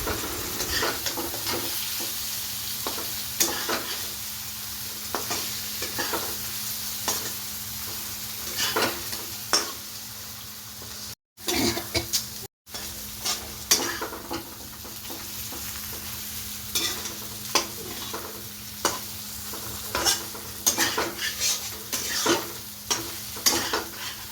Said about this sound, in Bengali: ভালো করে মাছগুলো দিয়েও এখন সুন্দর করে সাঁতলে নেওয়া হবে